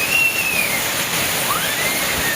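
Heavy rain pours down outdoors as a loud, continuous broadband roar, with faint whistle-like tones sweeping over it.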